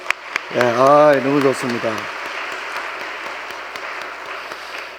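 A church congregation applauds the middle school group at a Friday evening service. A voice speaks briefly at the start, then a dense patter of clapping carries on underneath and fades out.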